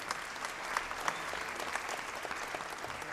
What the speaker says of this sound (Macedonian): Да ги поздравиме сите пред нивниот вечерашен настап со еден аплауз.